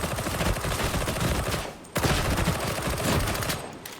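Rapid continuous autogun fire from the video game Warhammer 40,000: Darktide, a dense rattling burst that breaks off briefly near the middle and then resumes, loud and unbroken, with no voices.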